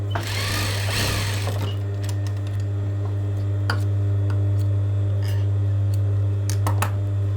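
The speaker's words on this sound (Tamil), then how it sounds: "இந்த பீஸ்லேயும் மூணு இன்ச்சில் ஒரு தையல் போட்டுக்கிறேன்" A sewing machine stitches a cross patti joint, giving a brief burst of running stitches at the start followed by a steady motor hum with scattered ticks and clicks.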